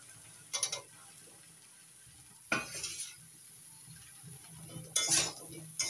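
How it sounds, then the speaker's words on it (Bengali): Pieces of drumstick (moringa) are stirred into mixed vegetables with ginger in a pan, making three brief scraping bursts over a faint, low sizzle. "সজনের ডাঁটাটা একটু ভালো করে মিশিয়ে নেব নাড়াচাড়া করে"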